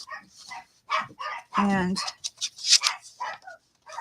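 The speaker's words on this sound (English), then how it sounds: "Sorry about the barking." A dog barks in a harmonic burst amid nearby speech, sounding close and fairly loud against the talking in a room where signatures are being sewn.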